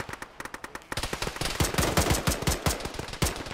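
An enemy machine gun firing in the military shooter Arma, rapid bursts of sharp repeating shots that come in quick rhythmic strings and grow heavier and closer as the fire continues.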